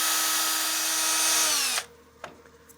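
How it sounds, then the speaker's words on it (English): A power drill spins sandpaper at roughly 600 RPM over a CA (cyanoacrylate) finish, a steady loud whir that runs for most of the moment, then cuts off abruptly, followed by a single faint knock. "our sanding speed is right about 600 RPM, especially because we're using a drill"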